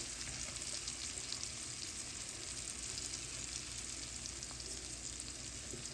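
Boiled ivy gourd with salt fries in a pan, giving a faint, even sizzle that runs on steadily without breaks.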